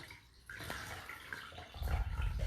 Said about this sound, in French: Alors de l'eau chaude et on va venir rincer notre Hello Clean.